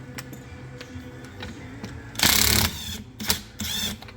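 Ratcheting mechanical clicks while unscrewing the nut on a MacPherson strut shock absorber held with two compression rods, with a few light ticks and then louder bursts of ratchet clatter near the microphone.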